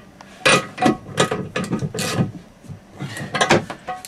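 A hand ratchet tightens bolts while an electric drive is installed and aligned, giving repeated short bursts of clicking strokes at close range with brief gaps between them.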